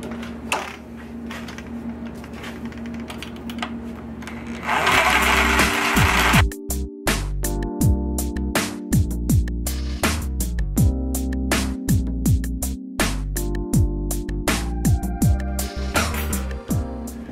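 A wood lathe spins a hard, dry wooden bowl blank, giving a loud mechanical hum broken by rapid, rhythmic clattering and knocking as the tool cuts.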